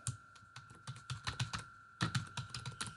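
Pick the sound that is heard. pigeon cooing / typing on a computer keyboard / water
typing on a computer keyboard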